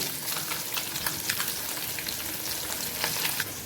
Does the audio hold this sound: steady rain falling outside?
no